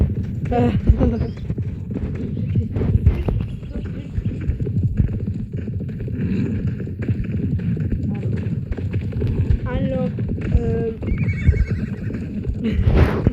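Horses whinny and neigh over a steady rumble of clip-clopping hooves in a western horse video game, with a person speaking briefly early on.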